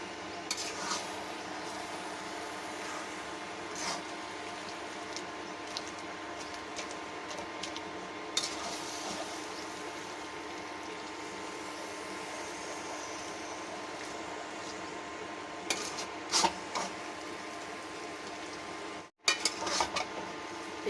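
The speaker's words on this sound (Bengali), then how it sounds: "এইভাবেই নাড়াতে থাকতে হবে।" Spices for a plum (kul) pickle being stirred in a pan over low heat, with faint, steady scraping and occasional light clinks of the spoon against the pan.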